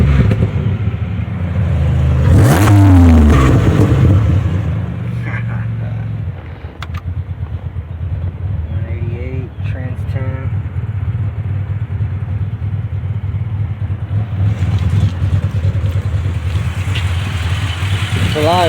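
A supercharged 2007 Pontiac Grand Prix GT engine revs up loudly near the microphone, then settles into a steady rough idle that continues for the rest of the stretch, with no talking.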